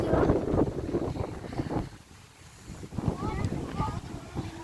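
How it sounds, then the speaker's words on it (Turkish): Strong wind buffets the microphone in heavy gusts, easing briefly midway before picking up again, with a voice faintly mixed in. "Gördüğünüz gibi çok rüzgar"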